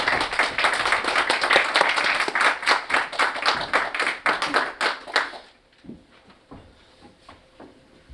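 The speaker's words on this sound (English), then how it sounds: "So if we could give a round of applause." Applause from an audience at a keynote event, dense rapid clapping for about five seconds, then breaking off into a few scattered claps and faint room noise.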